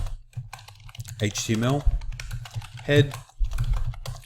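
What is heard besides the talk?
typing HTML code on a computer keyboard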